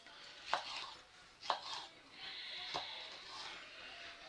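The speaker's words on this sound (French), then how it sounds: "nous allons couper les poivrons, mais à la grossière" Bell peppers being coarsely chopped for a vegetable sauce, a few separate knife strikes on a board spaced about a second apart, with soft kitchen clatter in a quiet room.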